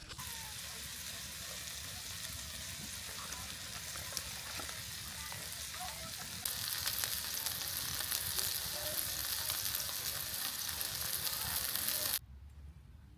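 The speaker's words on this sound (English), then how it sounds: "just single hob gas cooker, and a couple burgers and some cheese" Burgers frying in a pan on a single-hob gas cooker fed by a gas canister, with cheese nearby, giving a steady sizzle that rises louder partway through, then drops off sharply near the end.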